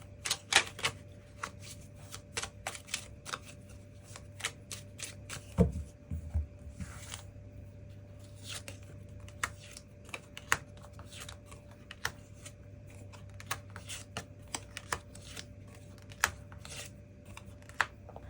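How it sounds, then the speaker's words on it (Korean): Tarot cards shuffled and drawn at a table, a close, quiet stream of rapid dry clicks and riffling snaps over a faint steady hum. "그 부분에 대해서 추가 카드 뽑아보도록 하겠습니다"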